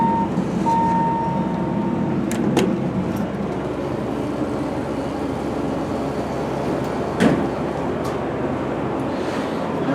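A Dover hydraulic elevator, installed around the early 1990s in a university union building, descends from floor 2 to floor 1 with a steady, fairly loud rumbling drone and a few sharp clicks and knocks along the way.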